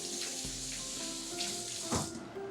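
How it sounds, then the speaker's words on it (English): Kitchen tap water runs steadily as hands are rinsed beneath it, a close, continuous splashing with a brief louder gush near the end and no talking. "rinse my hands off"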